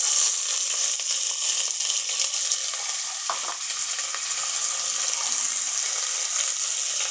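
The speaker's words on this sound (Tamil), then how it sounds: "இப்போ வெங்காயம் சேர்த்துக்கிறேன்." Onions dropped into hot oil for milagai killi sambar, giving a loud, dense, continuous sizzling hiss that stays steady and close for the whole stretch, with a faint stirring scrape partway through.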